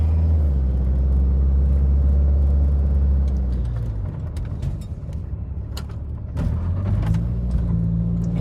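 A worn 1996 supercharged Toyota Previa van drives along a street, its engine rumbling low and close, easing off midway and then building again as it pulls ahead.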